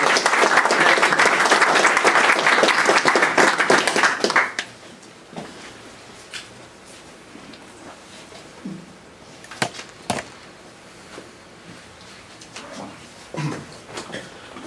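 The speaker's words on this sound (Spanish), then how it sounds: "Le brindamos un fuerte aplauso para que comience este ciclo de conferencias" A strong round of audience applause welcoming the speaker at a lecture on mediumship, thick, even clapping for about four seconds before it cuts off sharply, followed by quiet room noise with a few scattered knocks and rustles.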